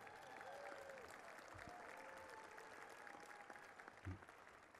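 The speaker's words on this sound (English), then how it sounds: "please give Linda Bradley a round of applause" Sustained audience applause at a city's 2015 State of the City address, dense steady clapping from a large crowd with scattered cheers, even and continuous throughout.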